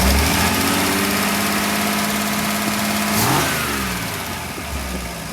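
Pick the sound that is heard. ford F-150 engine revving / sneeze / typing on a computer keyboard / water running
ford F-150 engine revving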